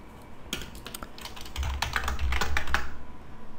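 Keys clatter on a computer keyboard in quick, uneven bursts, close and fairly clear over a low background hum, as someone copies code and presses Enter.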